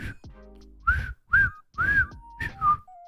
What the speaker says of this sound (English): why can I not whistle?